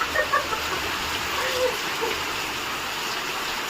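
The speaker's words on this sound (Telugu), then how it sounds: "బాగా వస్తుంది వర్షం" Heavy rain pours steadily at night, a dense continuous wash of hiss with a few brief splashes near the start, fairly close and constant.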